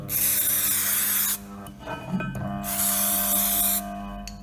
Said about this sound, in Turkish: Spreyimizi sıkıp